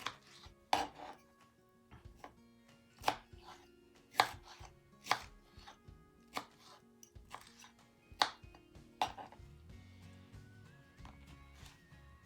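Canned peaches being cut on a board for a peach cream cake, about a dozen sharp knife chops landing at an irregular pace, close and clear over a quiet background.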